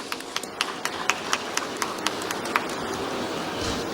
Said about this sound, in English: A round of applause for him, please.